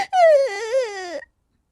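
A single wavering, wailing cry in a forest, used as a story sound effect. It swells up loud, dips and trails off after about a second, then silence.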